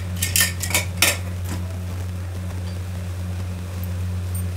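A few quick metallic clinks and scrapes of a spoon stirring potato curry in a cooking pot at the start, then a steady low hum with no talking.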